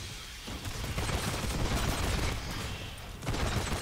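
Sustained automatic gunfire in the sci-fi shooter game Aliens: Fireteam, a dense continuous rattle of bursts filling the whole stretch, loud and close with no voices over it.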